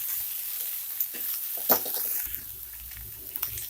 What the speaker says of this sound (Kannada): ಈಗ ಹಸಿ ಕಾಯಿ ತುರಿ, ಕೊತ್ತಂಬರಿ ಸೊಪ್ಪು, ಮಿಕ್ಸ್ ಮಾಡ್ಕೊಳ್ಳಿ.